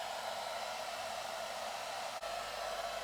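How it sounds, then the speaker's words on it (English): A hairdryer on medium heat blows a steady, loud broadband whoosh that runs without a break the whole time, with only a brief dip near the end, used to soften stubborn glue. "So I'm going to use the hairdryer on a medium heat."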